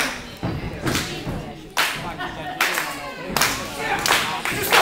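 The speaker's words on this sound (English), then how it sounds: "Stop clapping!" Audience at a wrestling event clapping in sharp, rhythmic bursts, loud and close, with shouting voices in between.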